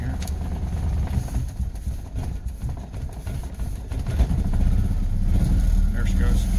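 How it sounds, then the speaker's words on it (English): BMW Isetta engine idling roughly just after a cold start with the choke on, a low uneven chugging rumble throughout, heard close, with someone speaking over it. "Let her idle up for just a second here."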